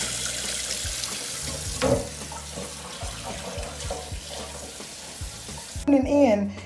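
Cold water runs from a kitchen tap with a steady splashing rush, then a louder gush near the end, with faint clatter in the background.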